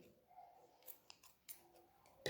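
Scissors snipping crochet yarn after a final chain stitch: a few soft, close clicks and snips spread over a couple of seconds, ending in a sharper cut, quiet and without talk.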